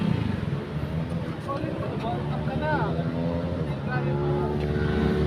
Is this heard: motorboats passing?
yes